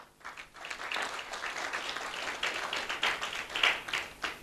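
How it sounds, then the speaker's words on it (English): Audience applause at a graduation ceremony in Johannesburg for the graduating class of 2018, a fairly steady wash of clapping from a sizeable crowd with a few louder bursts. "A round of applause for them."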